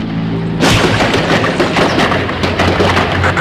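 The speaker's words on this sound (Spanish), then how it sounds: "procedieron a realizar insistentes disparos contra el pabellón" Gunfire in archival footage of an armed assault on a prison pavilion, a sudden loud blast followed by dense, continuous rattling volleys with heavy booms, sustained and close throughout.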